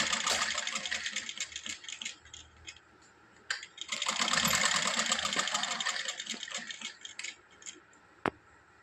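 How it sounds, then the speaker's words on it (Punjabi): A sewing machine runs in steady bursts, stitching elastic onto a press table cover, with a dense whirring rattle that pauses briefly and then resumes, close up and without speech. "ਆਪਾਂ ਲਾਸਟਿਕ ਦੇ ਸਲਾਈ ਲਾ ਰਹੇ ਹਾਂ"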